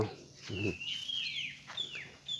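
A chicken clucks briefly nearby at a Buddhist temple in Lampang, Thailand, low and soft, while high-pitched bird chirps sweep above it.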